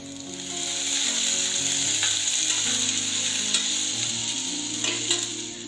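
Chopped tomato sautés in oil in a pan while Chettinad oil brinjal curry is prepared, giving a steady, close sizzle throughout with faint scrapes and clicks of stirring.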